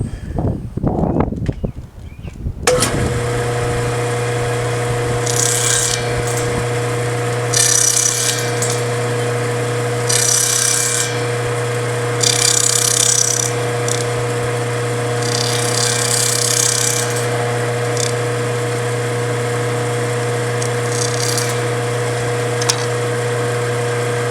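After a brief thump, a power tool whines steadily while making a light trimming pass on wooden edge banding, its tone rising and falling as it cuts, loud and close with no talk.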